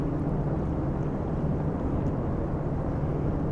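An airplane slowly climbing after takeoff from San Francisco gives a steady, dense low engine drone that stays even and unbroken, with no voices.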